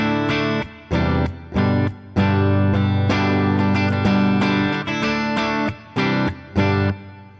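Clean electric guitar tone run through chorus and reverb in the OVERLOUD TH-U amp simulator app, a series of strummed chords with rhythmic stops and restarts and shimmering ringing sustain, played alone.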